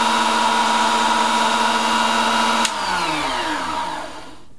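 A Proxxon KS230 single-speed table saw runs loud with a steady high whine, then the motor switches off and winds down over the last couple of seconds, its pitch gliding lower as it fades.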